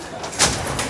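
A tame pet songbird, kept for a bird-singing contest, gives a single brief call up close against a steady background hiss.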